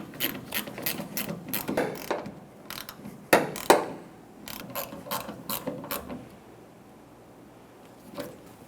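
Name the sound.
tightening filler neck bolts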